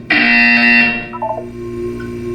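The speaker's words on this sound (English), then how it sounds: "You will hear a buzzer." A harsh electronic buzzer sounds in the Portal 2 video game, one loud sustained tone lasting about a second, followed by fainter chiming tones and a lingering hum.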